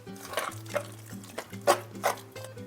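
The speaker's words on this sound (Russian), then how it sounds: "И сейчас всю эту массу я хорошо разминаю ложкой." A spoon mashes a mass of curd cheese dough in a bowl, giving a handful of soft, irregular scraping and squelching strokes, close and fairly quiet over a low steady hum.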